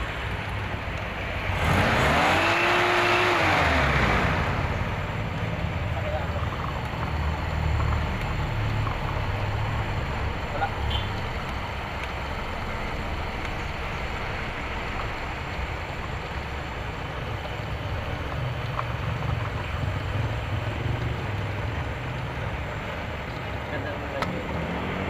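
An owner-type boxtype jeep engine idles quietly and smoothly, a low steady rumble running throughout, with a brief louder surge of passing noise near the start and someone speaking over it.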